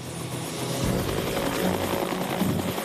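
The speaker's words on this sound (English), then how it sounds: "The chopper lifts off and heads for the burn site." A firefighting helicopter's engine and rotor build into a loud, steady roar with rhythmic blade thumping as it revs up and lifts off, with no voices.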